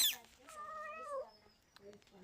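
Cat in a run-down, abandoned bungalow bathroom gives one clear, drawn-out meow up close, followed by a faint shorter sound, while a person talks nearby.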